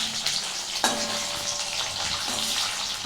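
Chicken pakora bubbling in hot oil, a steady close sizzle with a brief clink of a utensil, no talk.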